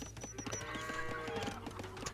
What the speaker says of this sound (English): And he's going to grab another goat.